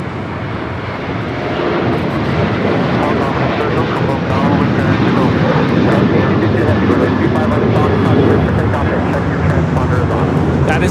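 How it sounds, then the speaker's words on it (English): An American Airlines Boeing 737-800 takes off from LAX, its engines making a loud, sustained broadband roar that builds slightly and holds steady throughout, heard close with no break. "That is American Airlines 2743 taking off to Dallas Fort Worth on the 737-800"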